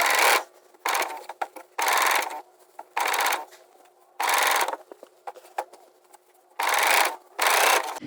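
Scissors trimming the fabric seam allowance around a sewn sleeve, a series of close rasping cuts in short bursts separated by quiet gaps, with no voice.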